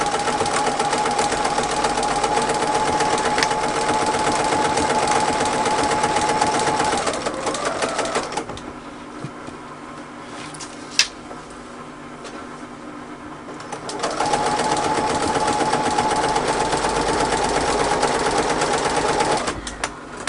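A sewing machine stitches along a worn bag handle to reinforce existing seams, its steady close whirring running for several seconds, pausing into a quieter stretch, then resuming at the same even pace before stopping.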